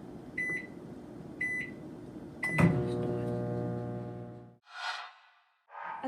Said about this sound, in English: here I'm going to go to my microwave. I'm going to put that in. I'm going to do a cook time of 50 seconds